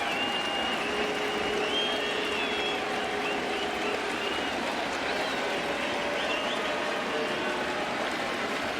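A baseball crowd on its feet at a full-count moment, a steady, loud roar of cheering and clapping that fills the whole stretch without a break.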